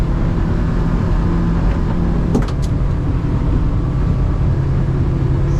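A single outboard motor driving a 26-foot Seasport fiberglass boat at about 23 mph on the water, a steady loud droning roar with a brief click partway through.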